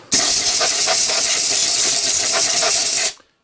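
An air compressor nozzle blasts dust off the engine head of an Atco Balmoral reel mower: a loud, close, steady hiss of rushing air that starts abruptly, holds for about three seconds, then cuts off.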